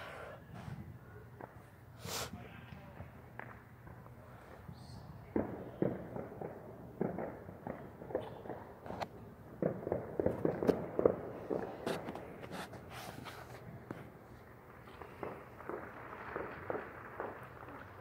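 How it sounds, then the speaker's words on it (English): Fireworks on New Year's night heard from a distance, scattered faint pops and crackles with irregular bursts over quiet outdoor ambience, some soft shuffling nearby. "I'm gonna try and show you where a new firework may pop up"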